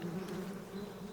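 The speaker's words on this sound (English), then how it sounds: "Bees." Bees buzzing in the Metal Gear Solid Delta: Snake Eater video game, a steady, fairly quiet droning hum that holds without break for the whole moment, with no talk over it.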